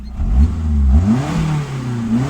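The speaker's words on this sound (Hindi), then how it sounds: "मैं ना आपको पंजा दाब के दिखाता हूँ।" A car engine with a faulty boost gauge is revved close up as the accelerator is pressed, its pitch rising and falling in a couple of loud surges over a steady idle rumble.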